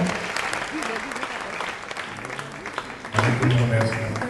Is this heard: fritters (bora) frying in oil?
no